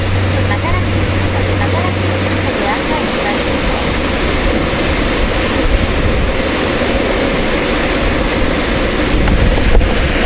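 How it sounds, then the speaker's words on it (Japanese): Water released from the Fube Dam spillway in Shimane Prefecture roars as a steady, dense rush that fills the whole clip, with a low rumble and gusts of wind buffeting the microphone. "放水してるわ。"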